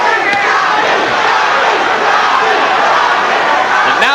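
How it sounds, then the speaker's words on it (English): Boxing arena crowd at the Sugar Ray Leonard vs Thomas Hearns rematch chanting for Tommy Hearns, a dense, loud wall of massed voices with rhythmic rises, steady throughout. "Crowd chanting, Tommy, Tommy."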